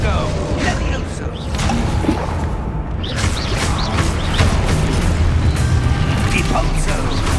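Spell blasts boom and burst in quick succession during Hogwarts Legacy combat, loud and close, while a voice shouts incantations over the explosions.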